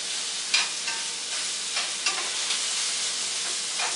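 Beef for fajitas sears in an iron skillet, giving a loud, dense sizzle that runs without a break, with a few brief bursts of spattering.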